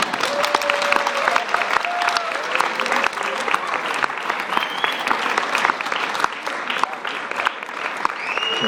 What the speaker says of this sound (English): One more big round of applause for Elder Mangakahia.